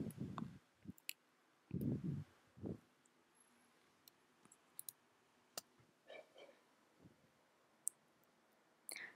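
A computer mouse clicks sparsely while images are dragged on screen: scattered, faint, close clicks and a few soft thumps spread irregularly through otherwise quiet room tone.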